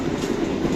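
Inside the dining car of the Gaya Baru Malam Selatan train in motion, a steady low rumble of wheels and carriage fills a short moment with an even, continuous hum.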